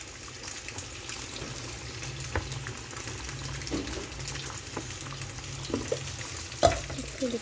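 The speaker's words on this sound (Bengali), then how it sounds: "ডিম ভাজা হয়ে গেছে তুলে নেব এখন" Eggs sizzle in a hot pan with a steady, soft crackle, broken by occasional clinks and stirring noises close by.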